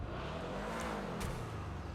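A stock-exhaust Annis Hellion sports car in GTA V idles and rises briefly in revs, a steady close engine drone with one gentle sweep upward and back down, no voices.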